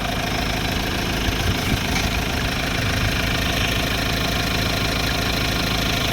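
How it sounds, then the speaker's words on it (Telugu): A 2014 Mahindra XUV500 W8 FWD diesel engine idles steadily, a continuous low rumble with a faint knocking texture running evenly throughout, close and alone without voices. "ఇంజన్ అనేది ఆన్ చేయడం జరిగింది ఒక్కసారి చూడండి ఇంజన్ సౌండ్"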